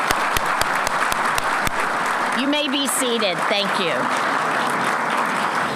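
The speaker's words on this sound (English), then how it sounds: "Would you please give them all a round of applause?" Audience applause for Hall of Fame inductees at a Tulsa ceremony, a steady dense wash of clapping throughout while a voice speaks briefly over it near the middle.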